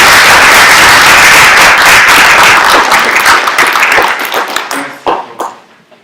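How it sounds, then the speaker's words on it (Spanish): A large audience applauds loudly to welcome a speaker at a political event on Federal District reform, dense clapping that thins into scattered claps and fades out over several seconds. "con ustedes el maestro Porfirio Muñoz Ledo, para quien pido una fuerte recepción con un aplauso"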